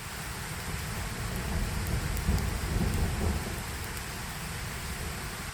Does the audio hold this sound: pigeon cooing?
no